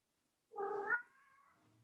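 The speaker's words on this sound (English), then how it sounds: "I hear a cat." A single cat's meow rises and then trails into a drawn-out, wavering tail, close and clear in a quiet room with faint low background noise afterward.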